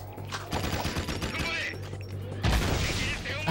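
Peacemaker blaster shots from Jak 2 on a speedrun, heavy booming bursts over a steady low rumble of game sound, with a louder blast near the end.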